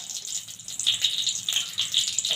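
Nigella seeds frying briefly in a small amount of hot oil, a close, soft, steady sizzle dotted with light crackling pops, no voices.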